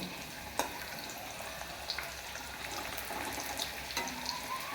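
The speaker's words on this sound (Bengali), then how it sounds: "এগুলো সব একবারে আমি দিয়ে দেবো একসাথে, দিয়ে ওই সেম পদ্ধতিতে ভেজে নেব।" Roti chips fry in hot oil with a soft, even bubbling sizzle, broken by a few faint clinks from a utensil. No one talks.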